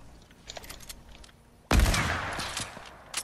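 A burst weapon fires in Fortnite Chapter 2 Season 3 gameplay: a sudden loud volley of rapid shots that cuts in partway through after quieter game sounds, then trails off gradually.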